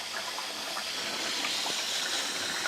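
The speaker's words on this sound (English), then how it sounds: "I'm going to get as much water in here as I can" Water pours steadily into a canning pot holding jars. The gushing fill is continuous and close, with bright splashing and no speech.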